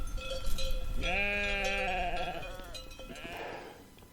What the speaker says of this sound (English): They're always out there grazing at night, and any chance activity at that hour will set them bleating.